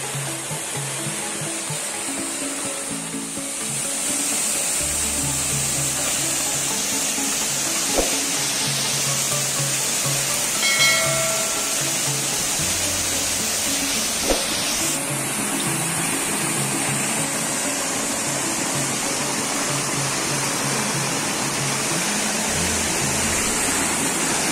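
Curug Orak Arik waterfall with a strong, heavy flow, a loud, steady roar of rushing water that continues without a break, with faint incidental knocks.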